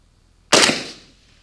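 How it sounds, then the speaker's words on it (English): A single sharp rifle report from an Arsenal SLR106F firing ball ammunition, a loud close crack with a short decaying echo, alone against quiet surroundings. "we're just going to shoot some ball ammo"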